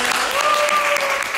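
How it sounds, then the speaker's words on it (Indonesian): A short burst of audience applause, many hands clapping together at an even, sustained level. "Tepuk tangan."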